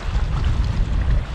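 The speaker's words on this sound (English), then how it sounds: "It's getting really, really windy actually." Strong, gusty wind buffeting a microphone outdoors in the Lake District, heavy low rumbling roar with uneven pulses, loud and close, no talking.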